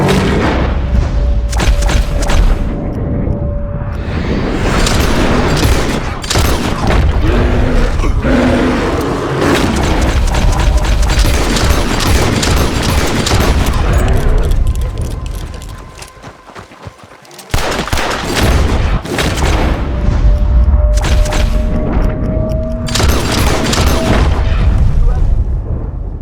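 Gunfire and explosions in Red Dead Redemption 2, a long, loud barrage of shots and booms with voices shouting through it, a brief lull near the middle before the firing resumes.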